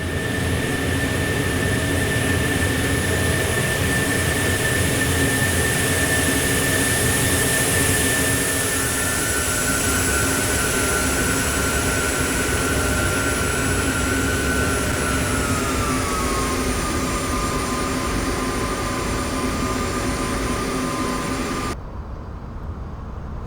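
A simulated jet airliner engine hums steadily on final approach into Leeds Bradford Airport in X-Plane 11, a constant whine with a tone that dips slightly partway through before the sound cuts off abruptly near the end.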